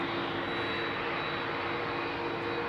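A Boeing 767 with CF6 jet engines departing Heathrow gives a steady, loud, broadband engine roar with a faint high whine, continuous through the whole span, no talk.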